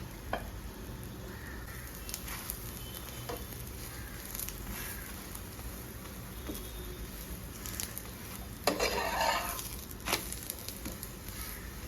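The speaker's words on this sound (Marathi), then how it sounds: "त्याला दोन्ही साईडने असं शेकून घेते। गॅस थोडा स्लोच ठेवायचा आहे" A fenugreek methi paratha roasts on both sides over a low gas flame, giving a steady soft sizzle with faint patters and a few brief clinks, and a brighter crackling burst near the end.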